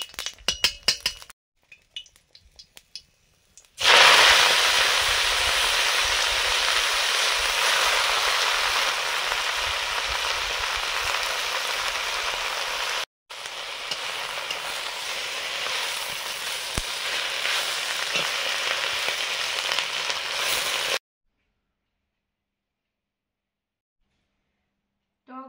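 Drumstick leaves tossed into a pan of hot oil with dried chili and five-spice tempering, a loud hissing sizzle bursting in after a few seconds of small clinks, running steadily with a brief break before cutting off.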